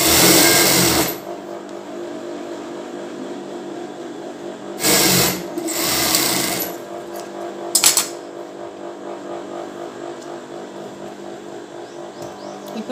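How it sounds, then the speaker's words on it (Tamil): A sewing machine stitches along the folded-in edge of bra fabric in a few short whirring runs: a brief one at the start, then two more after a pause. Close and clear over a faint background hum. "இத அப்படியே உள்பரமா மேல மடிச்சு நம்ம வந்து எஜ்ல ஒரு தையல் போட்டோம்னா ஃபினிஷ் ஆயிடும்"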